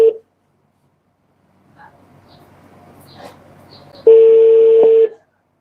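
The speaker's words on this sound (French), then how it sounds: "Normalement, ça sonne normalement." Phone call tones on a mobile phone, a short tone at the start, then faint dialing noise and one loud steady beep lasting about a second near the end, with no talking.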